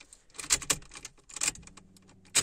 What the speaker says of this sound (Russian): Отпускаем кнопки и также включаем зажигание.